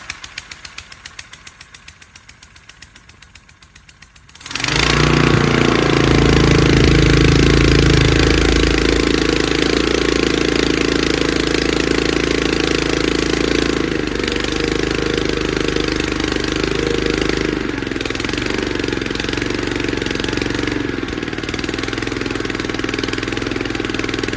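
A small engine running after an oil pump repair, loud and close, starting with a rough sputter and then settling into a steady droning idle that continues alone with no talking.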